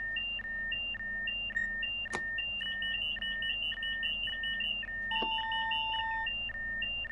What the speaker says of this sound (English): So there's an alarm going off